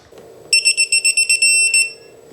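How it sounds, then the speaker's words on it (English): A digital torque wrench's high electronic beep pulses rapidly about ten times as target torque nears, then holds as a short steady tone before cutting off, over faint background hum. "It beep, beep, beeps when you get close and goes to a solid tone"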